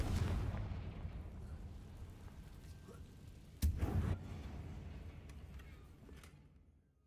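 A Confringo blasting spell explodes in Hogwarts Legacy, a sharp loud blast over a deep rumbling backdrop that rolls on and fades away.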